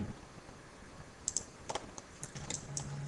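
Computer keyboard typing while a register name is entered in GENESIS32 SCADA software: a quiet, close, irregular run of light key clicks with short pauses between bursts and no talking.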